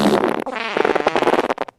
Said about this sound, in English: He farted.